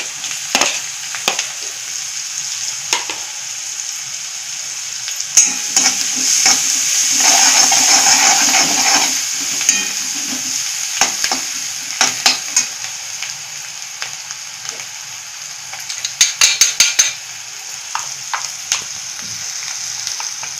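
Sliced onion and turmeric sizzle and crackle in hot oil in a pan for an Indian white pea curry, with a steady frying hiss, a louder surge midway and occasional stirring clicks, no voices.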